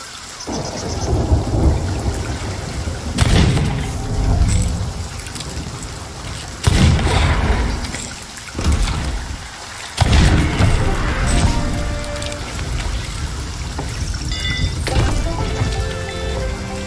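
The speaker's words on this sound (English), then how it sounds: "Oh, big storm coming in." A heavy storm at sea in the game Sea of Thieves: loud, continuous rain and wind with several sharp thunder cracks and rumbles close by, filling the whole stretch.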